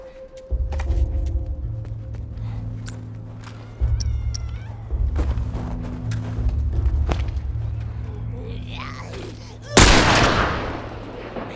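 Gunfire in The Last of Us, set in a winter forest, with several sharp shots spaced through a tense scene, the loudest blast near the end, over a low droning score and occasional voices.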